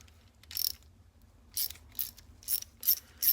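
A ratchet clicks in several short bursts while a nut comes off the rag joint of a 1963 Corvette C2 steering coupler, close and fairly quiet, with a steady low hum underneath.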